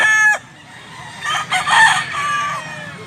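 A gamefowl rooster, a bullstag, gives a short close cluck and then one loud, drawn-out crow that rises and trails off, clear and near the listener.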